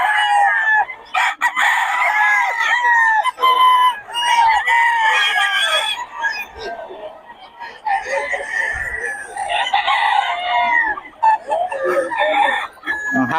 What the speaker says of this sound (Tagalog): Ano to, mga stag o ano na? Stag.